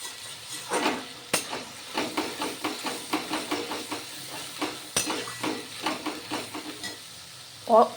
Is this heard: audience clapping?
no